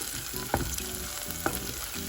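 Dry spices and onions sauté in hot oil for a spicy cassava and egg curry, with a steady crackling sizzle, up close and alone, broken by two sharp utensil clinks.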